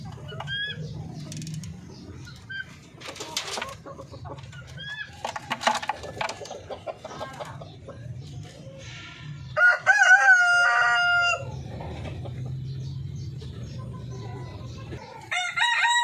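Breeder flock of native chickens, with roosters crowing repeatedly at close range over steady clucking and hen chatter. A loud, longer crow stands out near the middle.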